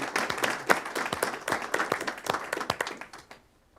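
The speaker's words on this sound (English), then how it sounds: "let's give them a round of applause." Scattered applause at a city council meeting: a modest group claps close by in an uneven patter of distinct hand claps, then tapers off to silence.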